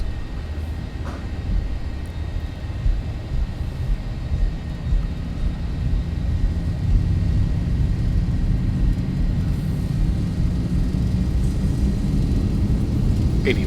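Jet engines on a Zibo 737-800 in X-Plane 11 roar steadily at takeoff power, a loud, dense rumble that builds slightly and holds throughout with no voices.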